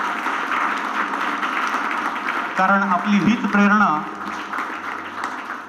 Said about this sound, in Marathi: टाळ्यांचा गजर अविरत चालू राहिला पाहिजे